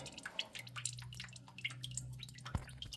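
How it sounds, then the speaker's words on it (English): Motor oil drips from a car's oil drain during an oil change, with close, irregular liquid drips against a faint steady hum. "So let that drip for a while."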